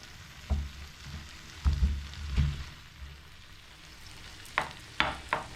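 Cooked rice is being stirred into an egg mixture in a frying pan, with a soft sizzle underneath and irregular scraping and clunking strokes from the spoon against the pan.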